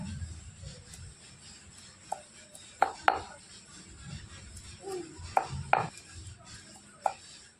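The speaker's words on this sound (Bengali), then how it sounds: "রসুনটা আমি থেতো করে নিয়েছি।" Garlic cloves crushed with a hard utensil, several sharp knocks and thuds, some in quick pairs, close by over a quiet room with faint background murmur.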